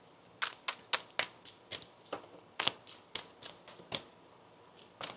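A deck of tarot cards is shuffled up close in a quick series of crisp, papery riffles, about a dozen short bursts in an uneven rhythm with quiet gaps between.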